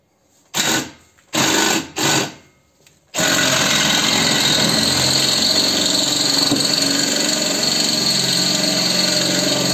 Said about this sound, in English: But I've got another drill here.